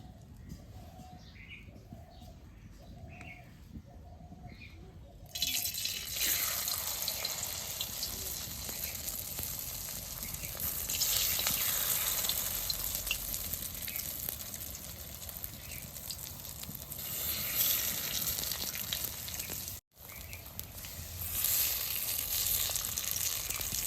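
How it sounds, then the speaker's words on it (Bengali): Shefali leaves dipped in batter and fried as chops in hot oil, probably in a village kitchen: after about five seconds of birds chirping and cooing, a loud, dense sizzle starts suddenly and continues steadily close by. "বন্ধুরা, তেলটা গরম হয়েছে, একটা পাতাগুলো নিয়ে বেটারের মধ্যে দিয়ে চপগুলি ভেজে নিব।"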